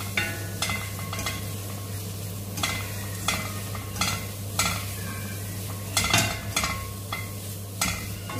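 Garam masala being stirred into a cashew butter masala curry in a pan, with repeated close scrapes of a spoon against the pan over a low steady sizzle and hum. No one speaks.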